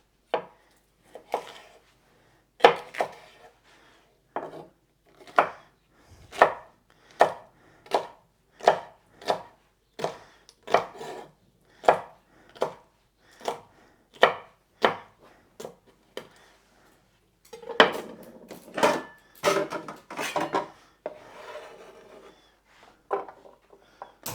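Knife chopping vegetable halves on a cutting board, slicing and dicing, in steady rhythmic close knocks, about twenty sharp strokes with brief pauses and a quicker burst near the end.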